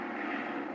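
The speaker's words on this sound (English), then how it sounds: "they have a lot of helicopters going by." A helicopter flies by overhead, a steady engine and rotor rumble that stays constant through the short moment, with no voices.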